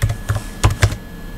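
Someone types a query for ChatGPT on a computer keyboard, producing a few quick clusters of close, crisp key taps separated by short pauses, with no speech.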